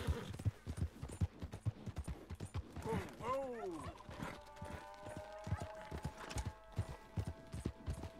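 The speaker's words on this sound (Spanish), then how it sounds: "voy a dar viajecito con el caballo por alargar un poquito más" Horse hooves clip-clopping in an even trotting rhythm while riding in Red Dead Redemption 2, with a brief whinny-like call partway through over a low game background.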